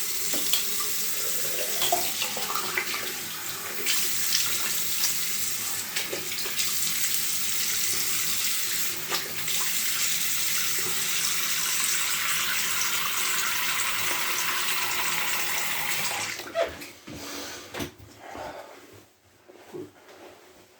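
Tap water runs steadily into a sink during rinsing, a loud continuous rush that stops abruptly near the end, leaving faint clatter and handling noises.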